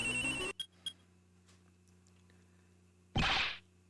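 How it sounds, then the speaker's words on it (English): A cell phone in Ace Attorney Investigations rings in two short electronic bursts, then goes quiet, and a louder burst of sound comes near the end. "That sound. That's her cell phone."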